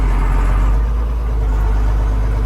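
A farm vehicle's engine idles steadily with its parking brake set, a loud, continuous low rumble close by with no clear revving surges and no voices.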